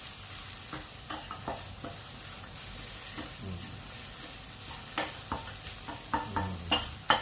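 Fermented fish paste stir-fried with eggs in a pan, the spatula scraping and clacking in irregular strokes over a steady close sizzle, the stirring growing louder and quicker toward the end.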